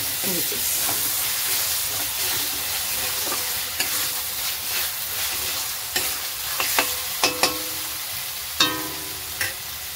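Onions and spices sizzle steadily as they fry in a pan, with scraping stirs and sharper clinks of a spoon against the metal growing more frequent toward the end, close and moderately loud with no talking.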